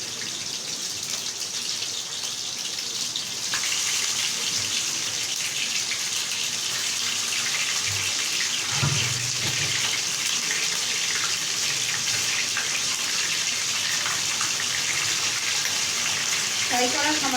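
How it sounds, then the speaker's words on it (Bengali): Chicken pieces drop into hot oil in a pan for a chicken curry, giving a steady, loud hiss and crackle of frying that intensifies after a few seconds and continues throughout. "তেলটা গরম হয়ে গেছে, এবার আমি দিয়ে দেবো চিকেন পিসগুলো। চিকেন পিসগুলো আমি একটু হালকা ফ্রাই করে নেব।"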